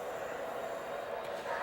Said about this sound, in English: The train just disappeared here into a two-turn helix